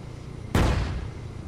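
A 105 artillery gun fires in the Arma video game: one sharp, loud blast cracks out suddenly, then a deep boom rumbles and slowly fades over the next second.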